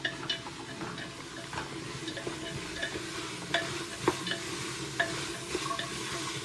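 Cabbage sizzles in a hot pan while a spoon stirs it, steady frying crackle with scattered scraping taps against the pan, close and moderately loud, no voices.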